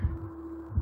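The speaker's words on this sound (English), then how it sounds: "So, what does the heartbeat mean?" A slow heartbeat in the stealth video game Manhunt: two soft, low thumps spaced under a second apart over a steady low hum, with no talking.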